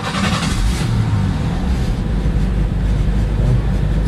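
A 1989 Ford Thunderbird engine starts after a fuel pump replacement, then runs with a loud, steady low rumble and idle close by throughout.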